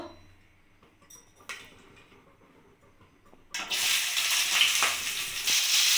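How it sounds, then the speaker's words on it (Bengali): Bhola fish dropped into hot oil in a pan starts a loud, steady, hissing sizzle partway through, after a quieter opening with a few light clinks. "এবার আমি মাছগুলো ভেজে নেব।"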